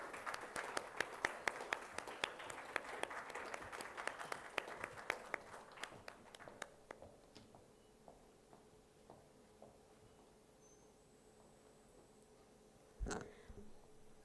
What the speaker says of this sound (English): Shall we welcome them with a large round of applause?